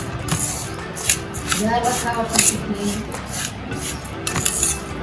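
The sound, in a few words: mixing lemons with salt and spice mix for pickle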